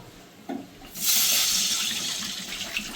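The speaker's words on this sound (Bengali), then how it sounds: "আগে কড়াটায় আমি জল দেবো" Water pours steadily from a tap into a cooking wok ahead of preparing chal kumro greens with potato, a continuous close splashing rush that starts after a brief clunk and holds to the end.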